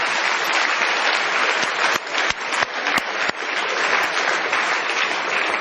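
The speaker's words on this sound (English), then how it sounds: "Should we have a round of applause anyway?" A lecture audience applauds at a popular mathematics talk, a dense, steady wash of many hands clapping close and loud, with a few sharper claps standing out, no talk over it.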